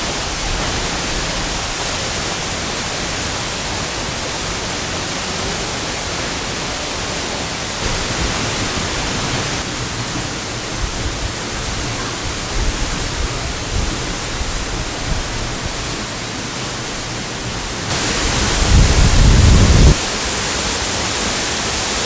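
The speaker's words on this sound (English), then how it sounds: "after the noise and the chaos around the waterfall" A waterfall roars in a broad, constant hiss of rushing water that fills the whole stretch, steady and loud, with a brief swell of heavier low rumble near the end.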